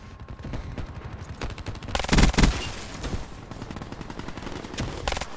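Sniper and automatic gunfire in a video game, a steady stream of rapid shots with a louder heavy burst in the middle, continuing through to the end.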